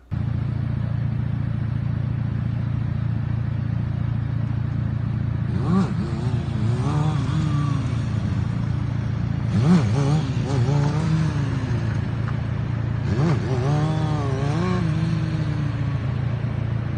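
A stunt motorcycle idles with a steady low engine drone, rising into several sharp throttle revs as it is pulled up into a wheelie, with a voice talking over it in places.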